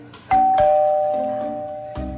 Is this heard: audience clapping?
no